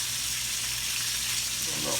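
Half-pound hamburger patties fry in a skillet with a dense, continuous sizzle, and a short scrape comes near the end as one is flipped.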